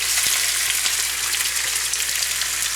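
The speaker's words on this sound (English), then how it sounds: "just shake our pork meat into our pan" Pork meat fries in hot oil in a pan with a loud, steady sizzle and scattered crackles and pops, close up and with no voices.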